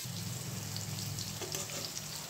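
Stuffed teasel gourd frying in a pan, a steady close sizzle with low bubbling oil and a brief scrape partway through.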